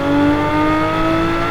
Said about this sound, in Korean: 그래서 스포츠 모드를 하더라도 배기음이 크게 달라지지 않습니다